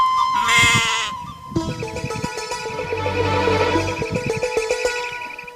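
Lambs bleat in a few wavering, nasal calls close by, set against a musical backing.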